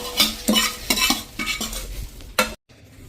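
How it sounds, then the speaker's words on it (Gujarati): A spoon stirs spiced puffed rice and flattened rice (poha) in a metal pot, giving about eight quick scraping, rustling strokes in an uneven rhythm before a sudden stop. "હવે એને આપણે જે પૌવા તપેલામાં નાખ્યા છે ને એમાં જ મિક્સ કરી દઈશું આ રીતે."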